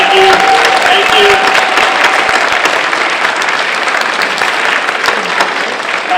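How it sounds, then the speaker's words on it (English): Audience at a school dedication ceremony applauding steadily and loudly for about six seconds, dense clapping from a room full of people with a faint voice or tone in the background. "please stand up and receive some applause"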